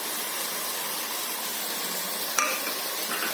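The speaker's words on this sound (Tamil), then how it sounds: "நல்லா கிளறி விடுங்க, அந்த சாரமும் இறங்கிட்டோம்." Mutton stirred with ginger garlic paste in a hot pan, a steady hissing sizzle with a brief scrape of the spoon against the pan near the end, no talk.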